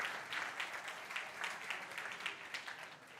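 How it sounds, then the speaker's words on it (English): Faint, steady applause from the crowd at a South African startup awards evening in Cape Town, heard as a distant round of clapping for prize sponsors with no voices over it. "a round of applause to our prize sponsors this evening"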